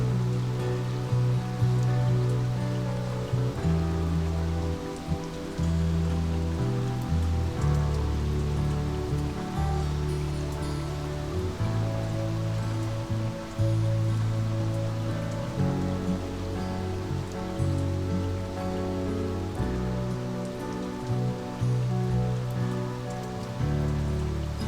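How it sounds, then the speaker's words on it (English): Light, steady rain falls during a motorbike tour in Alsace near Ribeauville, a continuous soft patter on surfaces heard alone, with faint trickling water throughout. "Now the rain is steadily picking up"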